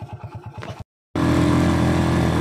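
Motorcycle engine labouring up a steep uphill road, a rhythmic low putter that cuts out briefly, then returns as a dense, loud, steady roar with wind noise, close to the rider.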